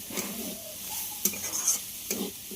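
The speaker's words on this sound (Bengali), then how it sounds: "চিনিটা দিয়ে আবারও একটু ভেজে নিতে হবে।" Raw peanuts fry in a pan with sugar and sesame seeds, a close, steady sizzle broken by brief scrapes and clinks as a spatula stirs them, with no voices.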